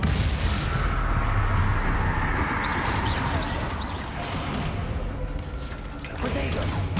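A Crucio curse cast in the game Hogwarts Legacy erupts as a dense, roaring magical blast that sustains loudly for several seconds, layered with crackling bursts and booming impacts from the ongoing duel.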